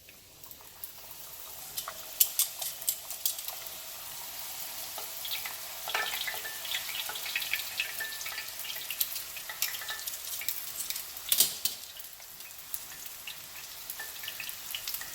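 Fry bread dough sizzling in hot oil, a steady soft crackle with scattered sharper pops and spits, fairly quiet and close, with no talking.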